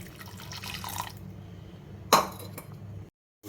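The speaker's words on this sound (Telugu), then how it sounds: "ఆ చింతపండు నీళ్ళు కొద్దిగా ఉన్నాయి, అవి కూడా వేసేద్దాం" Tamarind water poured into a pot of ajwain leaf dal gives a soft, close trickle and dripping, with one sharp clink of a utensil partway through before the sound cuts off.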